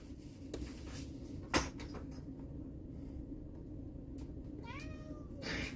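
A cat by the door gives a few faint rising meows toward the end over a steady low hum, after a sharp nearby clack of a cupboard or door.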